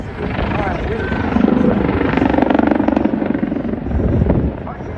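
A Lynx helicopter flies past with a loud, continuous rotor and engine roar that swells in the middle, heard amid crowd noise at an outdoor display.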